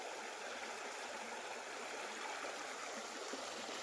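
Water from a stream flows on a farm in Nagcarlan, Laguna, a steady broadband rush and gurgle that stays even and continuous, close by, with no voices.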